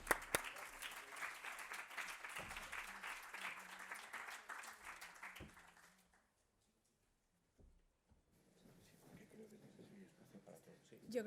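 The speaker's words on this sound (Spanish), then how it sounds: "Un fuerte aplauso." A live audience bursts into loud, dense applause for the moderator, an innovation journalist, at an open innovation round table. The clapping lasts about six seconds, cuts to near silence, then a voice begins speaking quietly.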